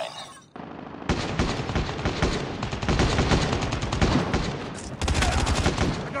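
Sustained automatic gunfire in Call of Duty: Mobile, loud and dense, with overlapping bursts after a brief quiet start and a fresh surge near the end.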